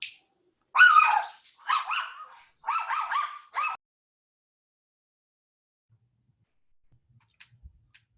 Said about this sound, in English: my little doggy's going bonkers